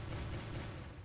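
Medium and light cannons on a fighter in the Roblox space game Galaxy fire in a dense, continuous rumbling barrage of low booms lasting about a second, loud and with no talk over it.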